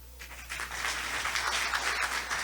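A congress audience claps steadily at moderate volume, a dense, even patter of many hands with no talk over it.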